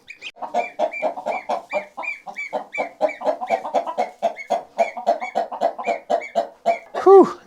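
On a Portuguese farm, chickens in a pen cluck in a rapid, steady run of close, loud calls, ending with a sharper squawk.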